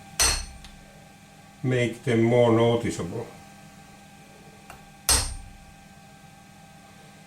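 A Finnish hammer strikes a metal chuck plate for a welding positioner in a workshop, giving two sharp, loud metallic clanks several seconds apart, with someone speaking between them.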